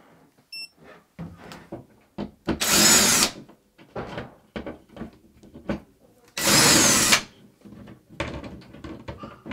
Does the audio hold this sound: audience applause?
no